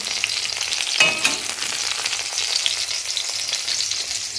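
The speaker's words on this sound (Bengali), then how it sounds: "লাল লাল করে বেগুনটা ভাজা হয়ে গেছে।" Brinjal frying in a pan, a steady close sizzle with a brief scraping clatter near the start, continuing evenly without any talk.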